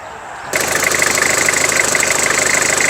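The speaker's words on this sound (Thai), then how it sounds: "สตาร์ทเครื่องยนต์แล้วนะครับ ผมอ่ะฟังเสียงเครื่องยนต์กันนะครับ" A Toyota Mighty-X pickup engine cranks and catches, then settles into a steady, slightly knocking diesel idle, close by with no talking.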